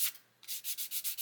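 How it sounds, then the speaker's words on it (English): A plastic part from an Airfix new-tool 1/24 Spitfire Mk.IXc model kit is rubbed on a hard, flat sanding stick: one stroke, a short pause, then six quick, even rasping strokes, close and clear. "I'm going to hold it on this sanding stick, okay, which is quite hard and flat"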